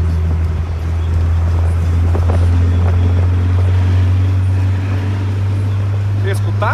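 A Volkswagen Variant 1600 engine drones with a steady, deep rumble throughout, loud and constant, with faint wind noise and occasional sounds on top.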